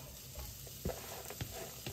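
Fat starting to sizzle in a cauldron over a gas flame, a soft steady frying crackle with a few sharper pops and stirring knocks, fairly quiet and close.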